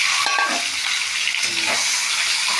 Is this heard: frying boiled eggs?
yes